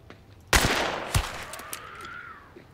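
Gunshots in Hunt: Showdown, two loud, sharp blasts about half a second apart with ringing decay, followed by fainter distant pops and a rising tonal tail, no talking over them.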